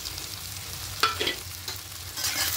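Tomatoes fry in a pan with cumin, coriander, chili and turmeric powder, giving a soft steady sizzle broken by a few scraping stirs, close by and fairly quiet.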